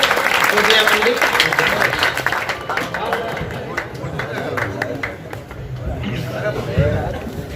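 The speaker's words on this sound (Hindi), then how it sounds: "जोरदार तालियां बजाइए" Audience applause at a Hindi kavi sammelan poetry gathering, dense clapping filling the whole stretch, loud at first and easing slightly, with voices and crowd chatter mixed in.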